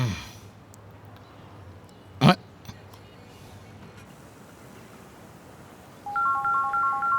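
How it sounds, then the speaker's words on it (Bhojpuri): A phone ringtone starts up at the end, a short repeating melodic electronic pattern of bright tones played over a low background hum in a Bhojpuri film scene. "अचानक के कर फोन आ गई।"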